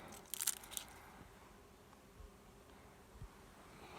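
Bees buzz faintly around a hive inside a tree that has just been opened, a low steady drone with a few brief crunchy bursts close by, with no talking.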